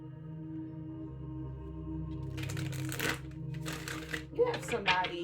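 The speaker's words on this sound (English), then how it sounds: "Let me shuffle more." Tarot cards are shuffled in several quick, crisp riffling bursts over a steady low hum, with a brief voice near the end.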